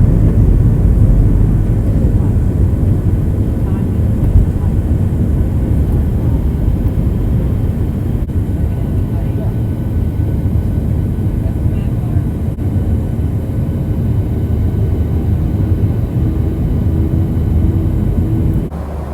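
A passenger jet landing and taxiing, heard from inside the cabin as a loud, steady, low engine rumble and roar sustained throughout, with no talk.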